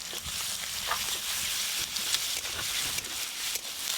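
Chopped garlic and onion sizzle in a pan, a moderate steady crackling fry with occasional stirring scrapes and no voices over it.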